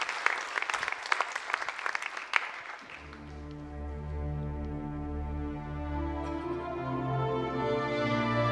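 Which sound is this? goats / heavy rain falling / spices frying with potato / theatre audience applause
theatre audience applause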